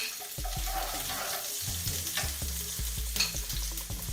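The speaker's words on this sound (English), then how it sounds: "put in the oil. Then you put your garlic for a couple of seconds" Garlic frying in oil in a pan, a bright continuous sizzle with a wooden spoon knocking and scraping in an uneven rhythm beneath it, close and fairly loud.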